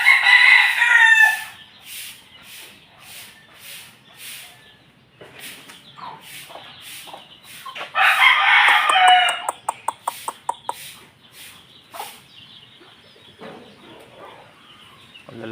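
White Kelso chickens crowing loudly at close range, with repeated clucks and rapid pecking-like clicks between the crows.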